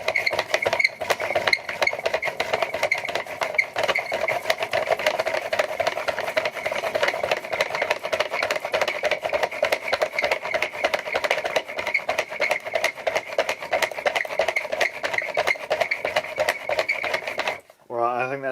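A hand-cranked generator built from a washing machine motor is turned over and over, giving a fast, steady mechanical whir and rattle that runs close and loud before cutting off near the end.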